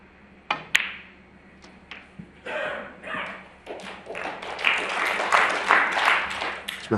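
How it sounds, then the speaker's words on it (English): Light, scattered applause from a snooker crowd at a Champion of Champions match between Neil Robertson and Mark Williams, starting with a few sharp claps and building into a modest, sustained patter of clapping in the hall. "Smattering of applause because that was the one he needed for 60"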